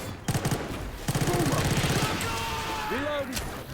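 Rapid automatic gunfire cuts down zombies in Left 4 Dead 2, two sharp rhythmic bursts of close shots followed by game noise, with voices talking and shouting over the action.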